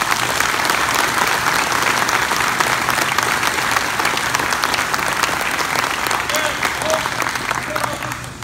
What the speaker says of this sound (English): give it up, big hand applause to those guys.